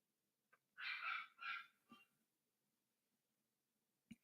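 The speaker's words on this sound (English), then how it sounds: "it's a little yapper, and he's outside the studio yapping" A small new puppy yapping outside a radio studio: a quick burst of two or three high, faint yaps, then a short yip and a soft thump in otherwise quiet room tone.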